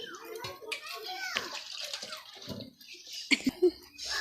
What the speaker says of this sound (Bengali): মুখ ধোয়া হচ্ছে